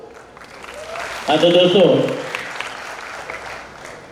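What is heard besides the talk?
audience applause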